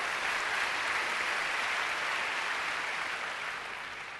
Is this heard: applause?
yes